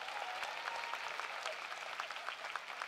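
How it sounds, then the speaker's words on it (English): A commencement crowd gives a distant, fairly quiet round of applause for an award recipient, a dense even patter of many hands. "Let's give Leah another round of applause."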